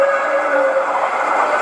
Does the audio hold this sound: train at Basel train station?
yes